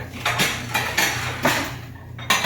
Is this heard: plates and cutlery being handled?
yes